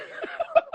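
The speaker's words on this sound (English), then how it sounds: "That cough was kind of deep" A man lets out a brief, deep cough, a few short rough bursts close by in under a second.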